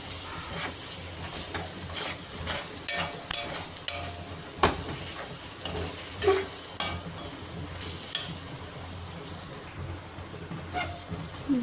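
Ingredients sautéing in a pan for paruppu urundai kulambu, a steady close sizzle broken by repeated spatula scrapes and metallic clinks against the pan.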